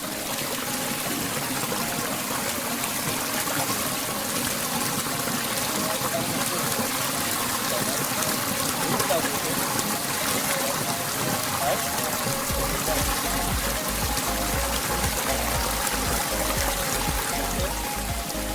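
Drinking water pouring steadily from a pipe at a spring on a temple hillside, a continuous splashing trickle heard close up with a low rumble joining partway through.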